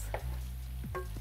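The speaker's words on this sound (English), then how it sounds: "I just remove the lid and then mix it all up again." Cooked chicken for Filipino bam-i noodles stirred in a pan: a faint sizzle with two quick scrapes of a utensil, close and quiet, without speech.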